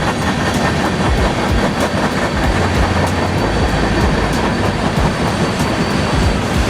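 A Norfolk Southern train led by vintage SD40-2 number 3379 with a trailing GEVO locomotive rolls past close by at a museum, loud and continuous, with rhythmic wheel clatter and heavy low rumble throughout.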